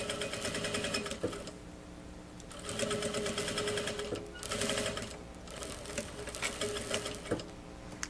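A sewing machine stitches a shoulder bag in close bursts of rapid, even needle clatter, pausing and restarting several times with quiet gaps between runs.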